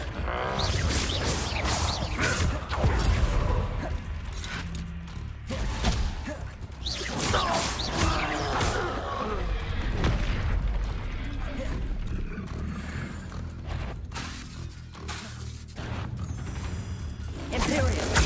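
Confringo fire spell blasting in the Hogwarts Legacy video game: repeated whooshing bursts and crashing impacts over roaring combat noise, with a player talking on top throughout.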